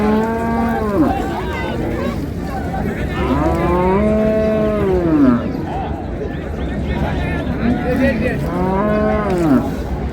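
Dairy cows and calves at Raniganj cattle market in Dinajpur low repeatedly, with three or four drawn-out moos rising and falling over a steady murmur of the crowd.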